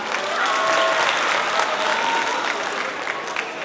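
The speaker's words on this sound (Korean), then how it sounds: "열연해주신 베테랑 팀께 다시 한번 박수 부탁드립니다." Audience applause at a Korean drama and film award ceremony, a dense, steady wash of clapping that stays loud and even throughout, with a few faint voices mixed in.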